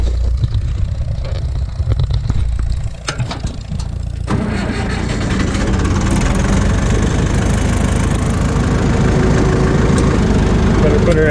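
A tractor engine starts up after firewood hauling of Michigan dead ash trees, then settles into a loud, steady, close idle rumble.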